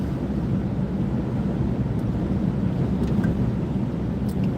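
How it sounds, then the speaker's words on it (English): A steady low roar of wind buffeting the microphone runs throughout, broad and constant, with no voices. "A little bit windy here today."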